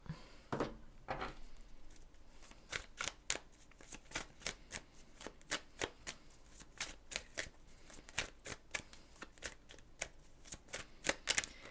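A deck of tarot-style oracle cards is shuffled by hand in a steady run of crisp riffling bursts, close and fairly loud, with no talking.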